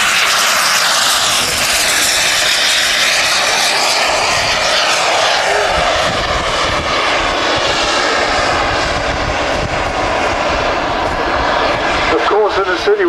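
Avro Vulcan bomber at an airshow, its jet engines producing a loud, continuous roar with a broad rushing hiss, while a commentator talks over it throughout.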